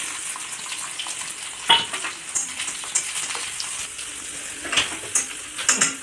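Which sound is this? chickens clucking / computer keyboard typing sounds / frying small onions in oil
frying small onions in oil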